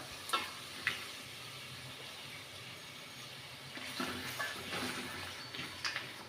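Onion, garlic and coarsely ground tomato sautéing in a pan, a low sizzle with a couple of sharp utensil taps early and softer stirring scrapes later, faint and close.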